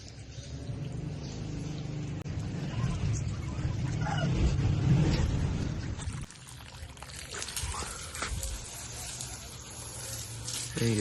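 Water running from a hose pipe into a bike tyre being filled, a steady gushing pour that softens after a few seconds into a thinner trickle and splashing, with a voice speaking over it.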